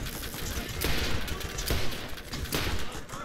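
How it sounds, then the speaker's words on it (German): Enemies firing in the video game Borderlands, sustained loud bursts of gunfire that rise and fall over a few seconds, nearly alone with no talk. "Ach, die ballern schon wieder, immer die gleichen."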